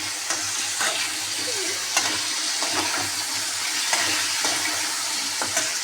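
Potatoes sizzle steadily in a pan on a home stove, a dense close frying hiss broken by occasional sharp stirring clicks and scrapes.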